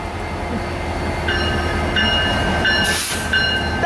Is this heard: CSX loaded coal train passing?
yes